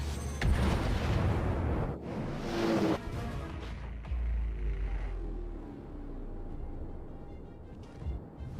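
The battleship USS Colorado fires its heavy naval guns in the naval warfare game World of Warships, loading armor-piercing rounds. The booming salvos rumble deep and loud, then fade into a lingering low roar with no talk over them.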